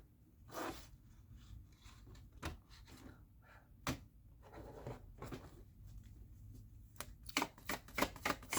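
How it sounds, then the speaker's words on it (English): Tarot cards shuffled by hand in quiet, with crisp riffling bursts and sharp snaps at irregular intervals that cluster more densely toward the end, close and soft. "Give it a good shuffle for you."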